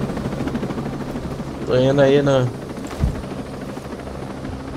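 Steady, close helicopter rotor hum in the video game Tom Clancy's Ghost Recon Breakpoint, running under someone speaking briefly in Portuguese, with a single thud near the end.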